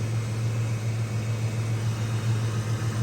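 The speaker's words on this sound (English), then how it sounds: "Oh, I like the sounds of these small block Fords." A 1993 Ford Mustang Foxbody notchback with its original 5.0 small-block V8 and five-speed sits idling while warming up for an oil change, giving a steady, even low drone with a constant hum and no changes in revs.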